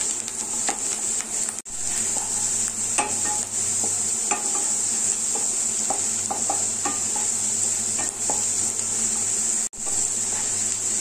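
Onions for veg pulao fry on a high flame while being stirred in a pan, a loud continuous sizzle broken by repeated scraping and clinking of the spoon against the metal.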